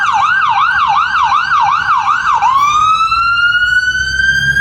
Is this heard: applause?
no